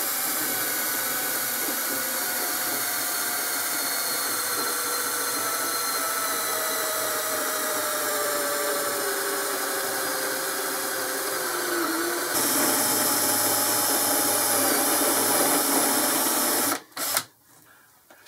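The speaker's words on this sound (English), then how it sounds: "I've just put a centre drill just to center the flat." A centre drill bores into metal on a lathe while making a cam vice handle, a continuous whining machine tone that turns harsher and louder partway through, then stops abruptly with a few clunks.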